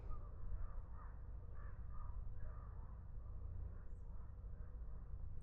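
A swirling flock of crows caws over a hiking trail at Sycamore Grove Park in Livermore, California: repeated faint caws drifting in and out over steady outdoor background noise, no talk.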